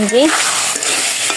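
Taro greens cooking in a pan on a home stove, a bright steady sizzle with faint stirring scrapes, close and loud; someone speaks briefly at the start.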